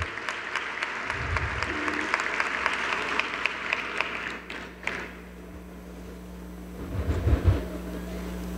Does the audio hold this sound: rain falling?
no